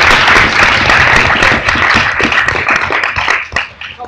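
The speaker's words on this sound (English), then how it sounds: "Can we have one final round of applause for us?" Audience at a public debate on private schooling applauding after a speech, with dense, even clapping from a crowd that thins slightly toward the end.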